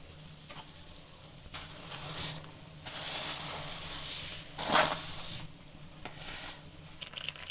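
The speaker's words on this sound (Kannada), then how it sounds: "ಬರೀ ಬಿಸಿನೀರು ಹಾಕಿರೋದ್ರಿಂದ ಬೇಗ ಕುದಿ ಬರುತ್ತೆ ಶಾವಿಗೆ ಹಾಕ್ಕೋತಾ ಇದ್ದೀನಿ" Vermicelli goes into a pot of boiling hot water for shavige upma, a steady bubbling hiss with rustling and splashy surges as the strands are poured in and stirred, no talking.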